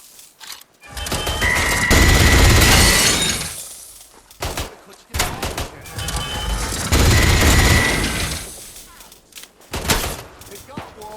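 Bomb blasts and gunfire in the video game Atomfall come as two long, loud bursts of booming, shattering explosions and rapid shots, separated by short lulls, with voices heard among them.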